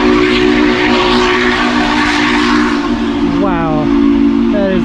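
A loud train called the Sugar Express rumbles steadily nearby at a campground by a creek, its sustained whistle blaring throughout and bending in pitch near the end, with a voice briefly audible underneath.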